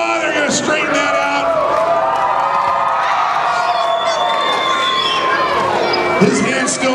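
Spectators at a Tuff Trucks off-road event in Chehalis, Washington cheering and shouting, a loud continuous crowd roar with whoops and raised voices, talk mixed in close by.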